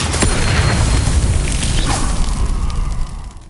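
A Confringo blasting spell in a Harry Potter video game lets out a loud, broad whooshing burst that holds steady for a few seconds and then tails off.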